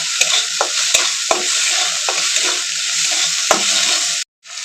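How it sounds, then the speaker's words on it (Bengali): Ginger and garlic paste frying in a hot pan while being stirred, a loud close sizzle broken by repeated sharp scrapes and clanks of a spoon against the pan, ending with a brief cutoff. "এবার ভালো করে একটু ভেজে নেবো যাতে রসুনের গন্ধটা চলে যায়।"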